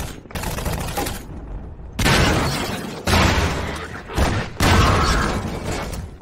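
Video-game gunfire in loud, dense bursts, four separate volleys of rapid shots each lasting about a second, with short pauses between them and no voices.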